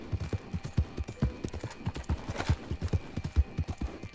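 Horse hooves clip-clop steadily in the Red Dead video game, a brisk, even rhythm of close thuds continuing throughout the clip.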